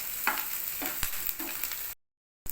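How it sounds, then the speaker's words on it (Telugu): Onions and curry leaves sizzle in oil in a pan for a Guntur-style chicken curry, with a few scraping stirs over steady frying before the sound cuts off abruptly. "మన ఆనియన్స్ మొత్తం ఫ్రై అయిపోయాయండి"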